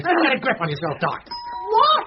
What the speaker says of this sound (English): Oh, I think that's the doorbell.